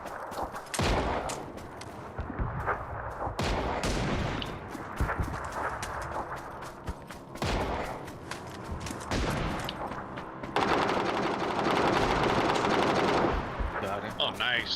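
Rapid bursts of video game gunfire, single shots and automatic volleys in a shooter match, loud and dense throughout, with players' voices talking over the shooting.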